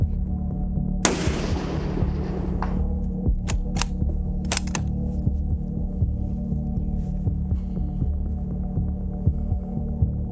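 A single rifle shot from a precision rifle build cracks out near the start and rings into a long decaying tail over a steady low hum, followed by a few sharp clicks.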